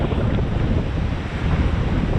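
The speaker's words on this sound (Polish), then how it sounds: "cały czas wieje sprawdzałem prędkość w internecie to od 25 do 40 km na godzinę wiatr wieje prosto na ryj" Strong onshore wind of about 25 to 40 km/h gusting along a Baltic Sea beach between Dziwnów and Pobierowo, roaring steadily and loudly into the microphone as unbroken buffeting rumble with no pauses or voices.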